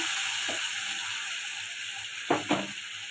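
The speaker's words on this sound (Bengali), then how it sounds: "এরপর আমি মশলাটা দিয়ে দেব" Fried potatoes crackle under a constant sizzle in a pan. A spice paste added near the end brings two quick, louder bursts of hissing. No one speaks.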